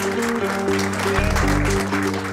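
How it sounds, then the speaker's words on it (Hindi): An audience applauds at a school dance competition, a dense clatter of clapping heard under music and other sounds throughout the short stretch. "मैं आप सब लोगों की तालियों का मतलब समझ गया हूं"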